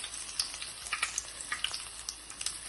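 Crushed garlic and spices fry in hot oil for a tomato egg curry, a close, steady crackling sizzle with scattered sharp pops throughout.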